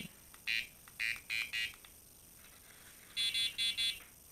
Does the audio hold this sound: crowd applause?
no